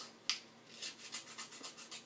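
Scissors trim leftover scrapbooking paper in a few quiet, close crisp snips and rustling cuts, spaced irregularly with no talking.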